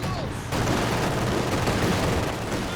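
MG42 machine gun fire in the Company of Heroes 2 strategy game, a dense continuous rattle of rapid shots that starts abruptly and stays loud throughout amid battle noise.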